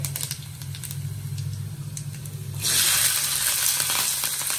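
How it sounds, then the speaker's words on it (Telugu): Peanuts and cumin fry in oil in a pan for poha, a soft crackle that jumps to a loud, steady hiss partway through as more goes into the hot oil, close and without talking. "నూనె వేసుకొని కొంచెం ముందు గ్రౌండ్ నట్స్ వేయించుకొని చక్కగా సిమ్లో వేయించుకుంటే బాగుంటుంది."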